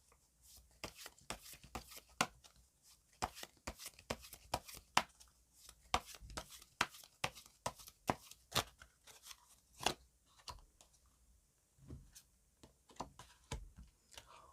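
Tarot cards are shuffled and drawn by hand on a table, making quiet, close, irregular taps, flicks and soft slaps scattered over a near-silent background.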